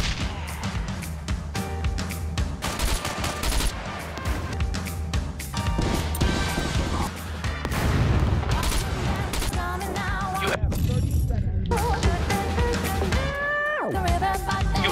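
Gunfire in the video game SCUM rattles in dense bursts and single cracks alongside crashes and thumps, loud and continuous amid a busy mix with voices and music.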